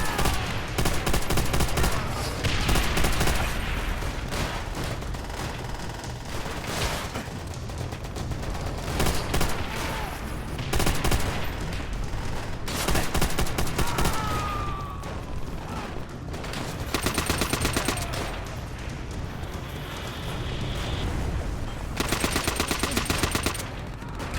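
Rapid machine gun fire in Call of Duty: World at War, long loud bursts that rattle nonstop with brief pauses between them, mixed with scattered other gunshots and explosions across a busy battlefield.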